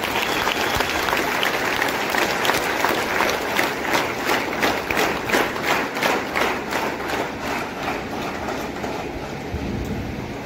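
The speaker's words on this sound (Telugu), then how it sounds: "మీరందరికీ ఒకసారి బిగ్ క్లాప్స్." Loud, sustained applause from a large gathered audience for a team of achievers, the clapping dense and continuous throughout with rhythmic bursts, close and filling the space, with almost no speech over it.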